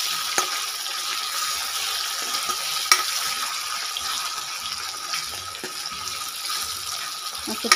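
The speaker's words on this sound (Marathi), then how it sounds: "आणि इकडं मस्त कढीपत्ता असं तळून घेत आहे" Curry leaves frying in a pan at home, a steady crackling sizzle with scattered sharp pops and spatters, close and even throughout.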